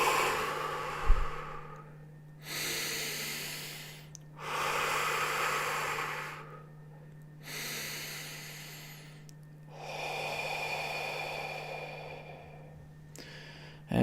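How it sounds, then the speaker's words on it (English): A person takes slow, deep breaths during a guided breathing practice, with long audible inhales and exhales alternating over a steady low hum, close and fairly soft, and no talking. "we're just going to take a slow, deep breath in. And exhale, clearing it out."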